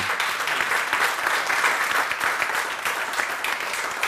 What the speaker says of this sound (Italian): vi chiederei, se siete d'accordo, un applauso per Sandro Visca che ci segue da casa